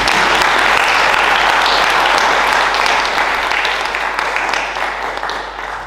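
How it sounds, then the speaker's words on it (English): A summit audience gives another round of applause, a loud dense wash of many hands clapping that holds steady and then slowly fades toward the end. "Can we have another round of applause?"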